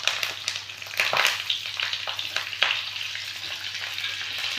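Stuffed brinjals drop into hot oil in a wok with cumin, mustard seeds and curry leaves, giving a loud, crackling sizzle with sharp spits and pops that settle into steady frying.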